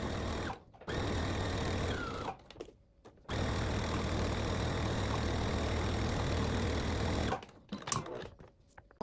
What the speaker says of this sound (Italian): due tessuti dritto con dritto, cucite tutti intorno e non lasciate nessuna apertura.